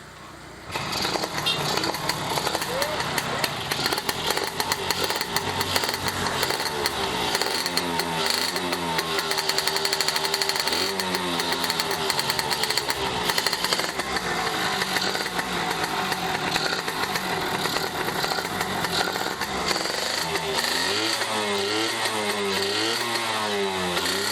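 Yamaha F1ZR two-stroke motorcycle, fully restored, running after a kick start: a steady, buzzy engine note idling close by, with occasional throttle blips rising and falling in pitch and no talking over it.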